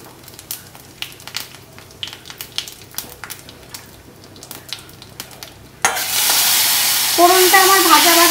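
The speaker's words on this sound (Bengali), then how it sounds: "আমি এবার তেলে জিরে, তেজপাতা আর শুকনো লঙ্কা ফোড়ন দিয়ে নেব।" Cumin, bay leaf and dry chilli drop into hot oil with a sudden loud, sustained sizzle after a stretch of faint clicks and stirring, the hiss staying strong and close to the end.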